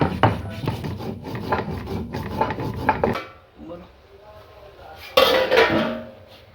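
Cumin, turmeric, onion, dried and green chilies, ginger and garlic being ground into paste on a grinding stone, with rhythmic scraping and rubbing strokes up close, a pause midway, then louder grinding resumes.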